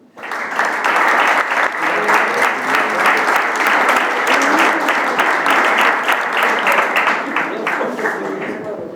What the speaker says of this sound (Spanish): Ángelo, vamos a darle un aplauso